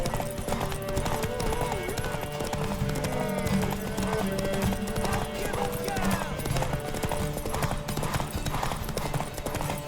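Rapid, rhythmic hoofbeats of a galloping horse in The Witcher 3: Wild Hunt, loud and close, running continuously over layered background music and occasional voices.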